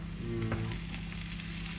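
Potato bhaji frying in a pan for a Sunday breakfast of aloo bhaji and atta roti, giving a steady, close sizzle with a faint stirring scrape partway through and no one talking.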